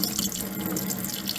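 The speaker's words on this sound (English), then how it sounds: "Watch the water flow freely." Water pours steadily from a freshly drilled hole in a homemade watering can, a continuous close splashing trickle with no talk.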